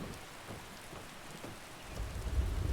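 Steady rain falls in the Skyrim video game, a constant hiss with soft low rumbling thunder swelling louder toward the end, no voices.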